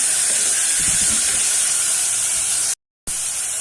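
Two small chopped tomatoes go into a hot pan while plain biryani is cooked in a pressure cooker, setting off a loud, steady, close sizzle and hiss that cuts out briefly before resuming, with no talk.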